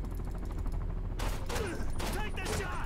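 Gunfire in the 007 Quantum of Solace video game, a dense fusillade of shots over steady game noise with bursts clustered in the second half.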